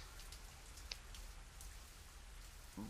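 Rain in the survival game Zafehouse Diaries patters as a soft, steady hiss with a few scattered drip ticks, quiet and unbroken.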